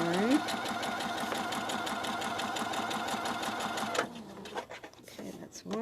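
A sewing machine stitches pieces of fabric together in a fast, steady mechanical run for about four seconds, then stops, leaving handling noises and a final short burst of stitching.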